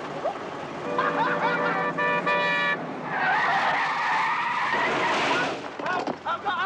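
A bus is driven out with a loud, close engine roar and a brief tire squeal, a tonal horn or whine in the first seconds, and voices calling over it.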